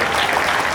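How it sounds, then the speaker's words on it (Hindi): An audience at a Hindi comic poetry gathering breaks into loud, dense applause, a brief burst of many hands clapping together at close range. "एक बार आप जोरदार तालियों बजा दीजिए एक बार।"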